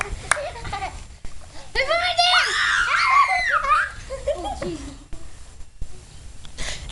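A young child screams and shrieks in high, wavering bursts at close range, mixed with giggling and laughter from nearby people as they play outdoors around hummingbirds.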